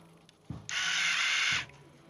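Towing mirror actuator motor on a Clearview towing mirror, powered from a 12 volt bench supply, whirs loudly and steadily for about a second between two soft clicks, close and alone.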